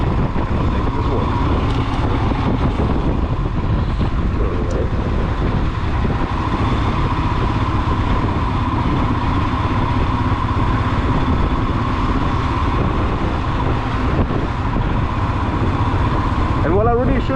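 Steady motorcycle engine and wind rush on a morning ride, constant and loud throughout, with a rider talking over it.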